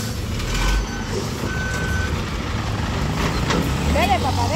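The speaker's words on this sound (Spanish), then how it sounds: "espérese que pase el camión porque con esa bulla no se escucha nada" A truck rumbles past loudly on a street, its reversing beeper chirping insistently, with a hiss of air brakes and other traffic nearby while people talk over the din.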